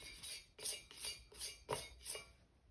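A clay teapot lid gallery being trimmed on the wheel, giving a rhythmic scraping rasp in about five even strokes, close and fairly quiet, with no talking.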